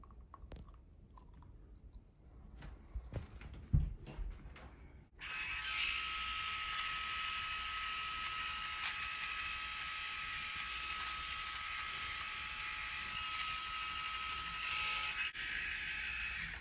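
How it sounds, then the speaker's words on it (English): A Freebird Flex electric nose trimmer attachment switches on after some faint handling clicks and then runs with a steady, bright, high-pitched buzz that holds for over ten seconds, close and alone. "I feel like this is gonna be the best attachment. Like, extra horsepower nose trimmer."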